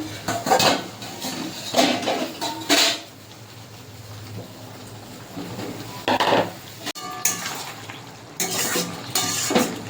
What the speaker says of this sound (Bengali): চাপাটা তুলে এবার বেগুনটা দিয়ে দেবো